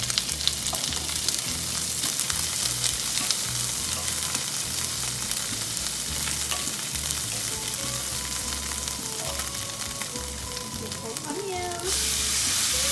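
Ginger and garlic sizzle steadily in a hot pan, a dense close frying hiss with occasional scraping clinks of a spoon stirring, continuing without pause.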